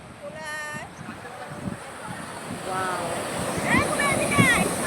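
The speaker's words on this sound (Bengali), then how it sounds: "এই যে ঢেউটা একটু একটু করতে করতে করতে ওটা সামনে চলে আসছে" Sea waves break on the shore at Puri in a broad, rolling wash that swells toward the end, with wind buffeting the microphone and distant voices mixed in.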